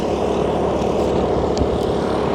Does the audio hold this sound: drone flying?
yes